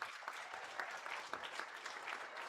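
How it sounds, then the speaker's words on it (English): Applause for young exhibitors at a market and breeding goat show at a state fair, a steady patter of many hands clapping at moderate distance, sustained throughout. "Give them a big round of applause."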